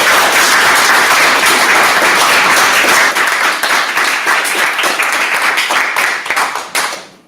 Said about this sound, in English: Can we give Team Melodia another round of applause?